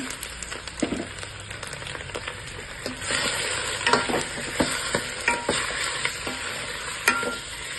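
Chicken pieces sizzle and crackle in hot oil with reddish-browned onions and garlic, stirred steadily with sharp spoon scrapes and clatters against the pan, the frying hiss swelling louder midway and staying close.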